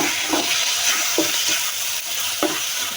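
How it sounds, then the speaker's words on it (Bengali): Tomatoes go into tengra fish frying in a pan, giving a loud, steady sizzle with a few soft stirring scrapes on top, close by and without talk. "এখন টমেটোগুলো দিয়ে দিলাম।"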